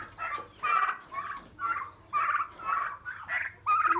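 Several turkeys give a rapid run of repeated gobbling and clucking calls, close and moderately loud, in quick bursts with brief gaps and no talk.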